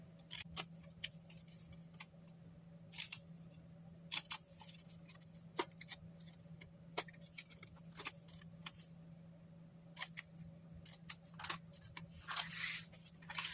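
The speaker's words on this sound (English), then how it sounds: "now I'm just going to cut up on the tabs" Scissors snip paper tabs on a cardstock portfolio box, a series of sharp, irregular close cuts and crisp paper rustles over a faint steady hum, with no voices.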